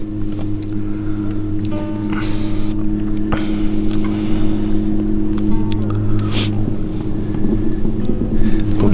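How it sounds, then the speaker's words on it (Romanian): A boat motor idles very slowly on a lake during a December carp-fishing trip, a steady low hum with a faint tonal drone, close and constant, with light wind noise over the top. "mergem foarte, foarte încet cu motorul"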